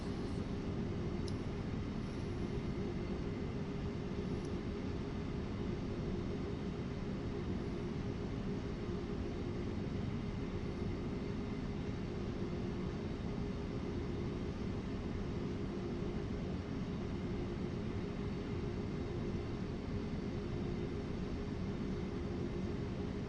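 Class 37 and Class 47 diesel locomotives rumble steadily in Train Sim World 3, a continuous low droning engine tone with a faint steady hum, unbroken and without talk.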